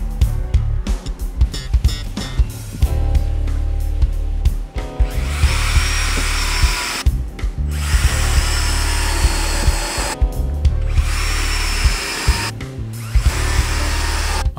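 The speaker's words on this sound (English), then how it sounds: "I need to drill 2 holes for the middle section to go through" A power drill whines loudly in repeated bursts while drilling holes in structural timber for a garden gate, revving up and stopping several times with short pauses, close by and with no talking.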